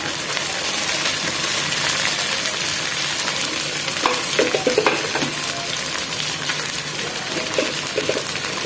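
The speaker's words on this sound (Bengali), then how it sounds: "একটু মশলাটা একটু ভেজে নিচ্ছি। এখন দিয়ে দিচ্ছি চিকেনটা।" Chicken pieces hitting hot oil and frying in a homemade spice masala give a steady, close sizzle, with a few louder crackles and stirring clatters near the middle and toward the end.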